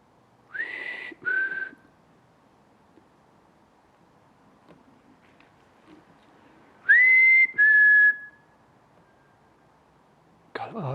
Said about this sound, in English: This recording, there's a whistle coming back.